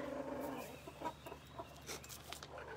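Backyard hens in a chicken yard cluck in short, soft, scattered bursts at a modest distance, with no talking.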